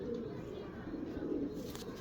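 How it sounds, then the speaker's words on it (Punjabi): Soft, low pigeon coos from a capped (topi) pigeon rumble steadily through the two seconds, fairly close, with faint background noise. "ਦੇਖੋ ਇਹ ਟੋਪੀ ਵਾਲਾ ਉਹ ਕਬੂਤਰ ਆ ਜੀ।"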